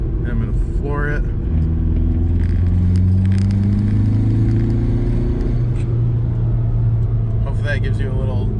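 An MK4 Jetta TDI diesel engine with a K&N air filter is floored at full throttle. Its loud, rumbling drone climbs steadily in pitch through the gears, with brief voices heard near the start and end.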